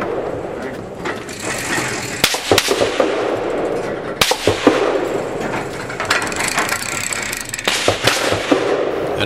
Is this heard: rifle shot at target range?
yes